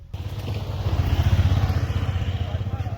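Scooter ride on the island of Thoddoo, with a small engine putting along in a steady pulsing rhythm, rising and then settling, close to the listener, with no one talking.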